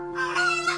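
A chicken gives a short, close, tonal squawk, a brief single burst of fowl vocalizing.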